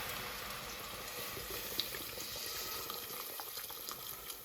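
Guinness stout poured steadily from a can into a cooking pot for a beef pie, a continuous low splashing, glugging liquid stream heard close by with no talk.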